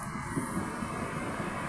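A Panasonic stand fan running on its lowest speed setting, a faint, steady airy whir with a low hum and slight rattle, continuous and even throughout.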